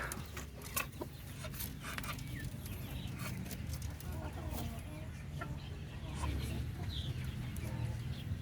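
Hens on a small Filipino egg-laying flock cluck intermittently at a moderate distance, with soft rustling and low background noise throughout and someone talking over the birds.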